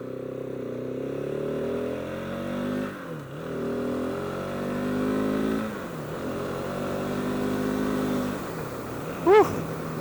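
A 2017 KTM 690 motorcycle engine runs steadily up close, its harmonic drone rising and falling through several throttle swells and dips, ending with a brief sharp revving burst.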